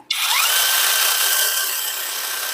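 A JIAPU 12-inch cordless electric chainsaw starts abruptly and runs with a steady high whine, its chain spinning freely while the oiling is tested, fading slightly toward the end.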